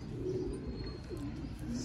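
A Sialkoti pigeon gives soft, low cooing calls close by against a steady background hum, with faint chirps from other birds.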